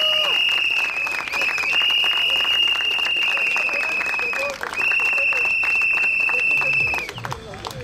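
Sustained applause from a large protest crowd in Mladenovac, Serbia, a dense steady clatter of clapping running loud for several seconds before thinning near the end, with a continuous high whistle-like tone riding above it.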